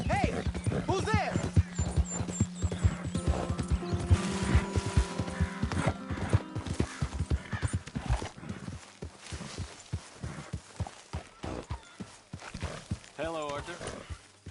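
A horse in a Western open-world game clops along in steady hoofbeats and lets out whinnies, close and clear under frequent spoken dialogue and a background score.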